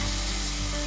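Chopped tinned tomatoes sautéing in a pan: a brief, steady sizzle with faint stirring, no voices.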